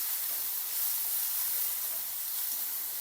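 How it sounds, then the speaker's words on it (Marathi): Crushed green chili paste sautéing in a pan for spicy Maharashtrian buttermilk kadhi, giving a steady close sizzle and hiss that stays even throughout, with no talking. "हिरव्या मिरचीचा ठेचा, याला पण छान परतायचं मिरचीला."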